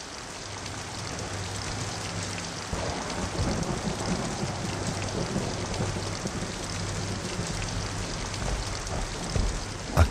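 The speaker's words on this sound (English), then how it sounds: "As he sat, the rain fell constantly." Steady, constant rainfall pours down, a dense continuous hiss with low rumbling beneath, no voices, ending in a brief louder swell.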